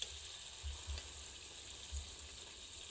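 Mutton being sautéed in a pan gives a steady, fairly faint frying sizzle with a soft hiss and occasional low stirring thumps, without any talk.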